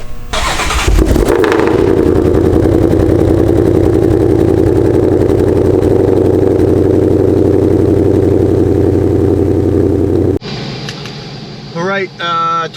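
A 2020 Ford Mustang GT500 fires up and settles into a loud, steady, deep idle close by, then cuts off abruptly, followed by a few short voiced sounds.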